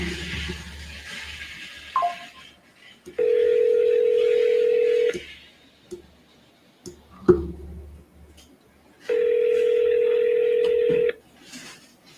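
A phone call placed to a sales lead rings out as two long, steady electronic tones separated by quiet gaps, with soft clicks around them and no voices.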